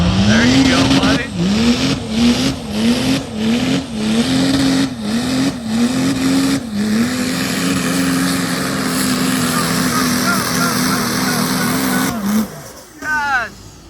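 A Duramax diesel truck pulls a sled at a King of the Street street-truck event, its engine revving in a run of rhythmic surges before holding a long loud steady drone, then cutting off, with voices in the background.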